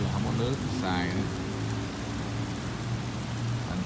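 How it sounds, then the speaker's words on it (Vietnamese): Steady rain pours down in a coastal spot near the sea, a dense even hiss that fills the scene, with a voice briefly talking over it early on. "này thì mưa rồi, chỗ này gần biển mà mưa"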